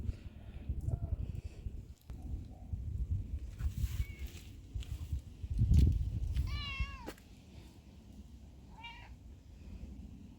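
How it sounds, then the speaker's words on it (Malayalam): A neighbour's cat meows twice, clear and fairly close, the second call a little softer, with low household rumble and handling noise in the background and no talking. "ഇവിടെ താഴത്തെ വീട്ടിലെ പൂച്ച കേട്ടോ ഇവിടെ എപ്പോഴും വരും"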